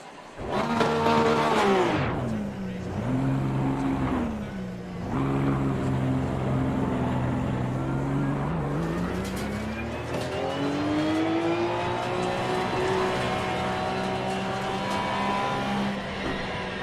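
Race car in the Assetto Corsa Competizione video game driven slowly around a track, engine droning loud and continuous for the whole stretch, pitch dipping and climbing through gear changes and corners, with no talking.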